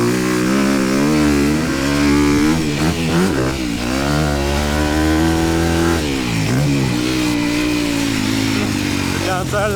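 A motorcycle engine is heard from the rider's position, revving and dropping repeatedly as the bike accelerates and shifts, with a strong mid-range drone and wind rush.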